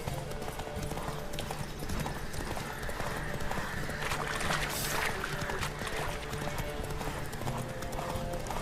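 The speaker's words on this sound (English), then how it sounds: "se me ha cansado el caballo" A horse gallops in The Witcher 3 video game with rapid, rhythmic hoofbeats, continuous and close, over a rushing ambient background, with no clear speech.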